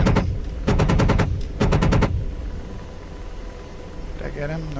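Rapid bursts of aircraft cannon fire in the DCS flight simulator, two loud rattling volleys of about half a second each, close and dominant, followed by quieter engine hum with a voice speaking faintly near the end.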